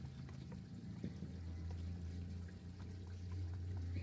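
Water pours from a bottle onto potted plants in mixed soil, a continuous soft trickle and splash lasting several seconds over a low steady background hum, with no talking.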